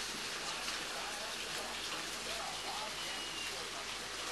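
Steady rain falls on a surface, a dense, even hiss of drops that stays loud and unbroken the whole time, close by, with no voices.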